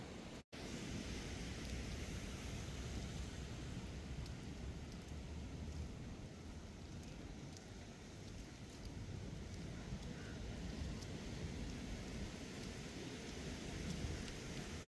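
Rain falls steadily outdoors in Colombo, Sri Lanka, near the sea, a dense, even hiss with a faint low rumble, continuous and fairly soft, with no voices over it.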